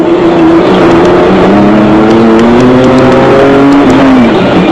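Mitsubishi Pajero off-road race car in the Toyota 1000 Desert Race in Botswana, recorded on board: a loud, continuous engine drone with rising and falling revs through gear changes, no talk.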